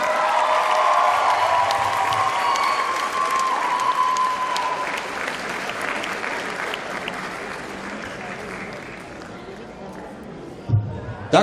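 A theatre audience at a dance studio performance claps in sustained, dense applause that gradually thins and fades, with a few louder knocks near the end.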